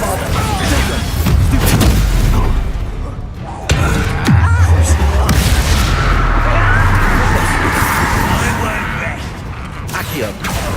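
Bombarda blasting spell in Hogwarts Legacy bursts with a loud boom and crackling debris amid ongoing combat effects, heavy impacts repeating over about ten seconds with voices in the mix.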